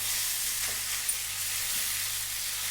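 Potatoes, onion, curry leaves, cumin and mustard seeds frying in hot oil, giving a steady, dense hiss and crackle that stays loud and even throughout with no voices.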